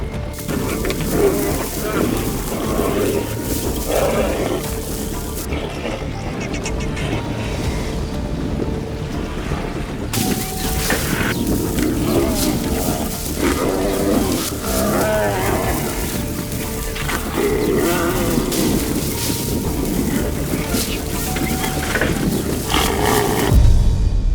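A lion roars after a fight with a hippopotamus on open grassland, giving long rumbling growls that swell and fade over a steady wash of background noise.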